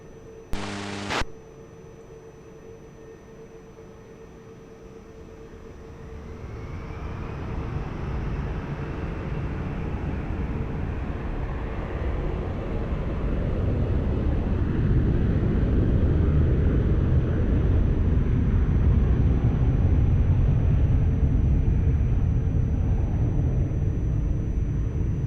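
A jet airliner taking off from runway 20 at Lisbon Airport, a distant engine roar that swells steadily after a brief click and keeps building into a broad, loud rumble that holds to the end.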